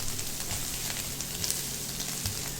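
Bacon sizzles and crackles steadily in a hot pan for a pasta carbonara, a close, continuous hiss with small pops and no voices.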